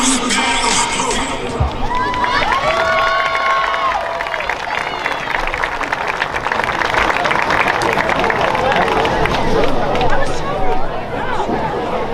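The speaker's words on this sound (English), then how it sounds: "Still getting a lot of crowd noise." Crowd noise fills the stands at a high school varsity football game at JT Flaherty Field, a loud continuous babble of voices with scattered cheers and whistles, and a voice talks over it.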